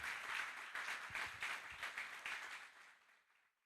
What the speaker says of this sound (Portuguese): Você pode aplaudir ao Senhor, irmãos